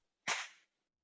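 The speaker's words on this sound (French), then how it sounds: "le gifle." A single sharp slap to the face, one crisp smack with a short fading tail, set against silence.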